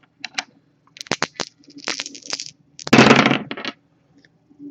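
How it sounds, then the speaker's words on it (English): Astrology dice are rolled and tumble on a table, a close series of light clattering knocks and skittering rattles in several bursts, with one longer rolling clatter near the end. "We're actually going to start the reading off by rolling those astrology dice we have in front of us"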